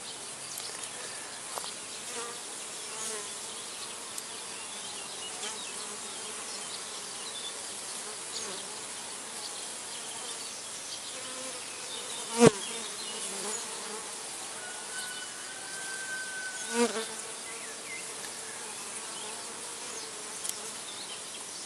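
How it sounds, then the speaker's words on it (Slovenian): A swarm of honeybees gathered in a hedge buzzes in a continuous, even drone for over twenty seconds, with a few brief louder passes and faint clicks near the middle. "rojenje čebel"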